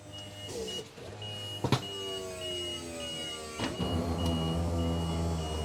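A steady electric motor whirs as an AL-KO E&P self-levelling system on a caravan retracts, with a repeating beep pulsing over it and a couple of mechanical clunks.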